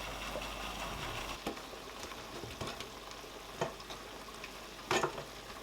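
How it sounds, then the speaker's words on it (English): Tomatoes fry in a pot for Nigerian vegetable soup, giving a soft, steady sizzle with occasional faint clicks and spatters. The sizzle sits fairly quiet and close, with no talking. "I'm going to fry the tomato and let the tomato dry up"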